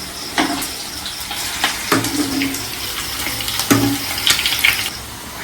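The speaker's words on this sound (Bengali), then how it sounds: "এক পিঠ লাল লাল করে ভাজবো।" Fish roe fritters fry in hot oil, a steady bubbling sizzle broken by a few louder crackling bursts and spatters, close up with no voices.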